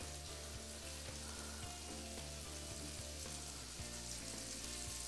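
Coated pieces of food sizzle and crackle steadily in hot oil in a pan, a close, continuous frying hiss with no talking.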